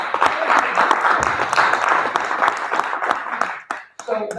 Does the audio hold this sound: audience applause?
yes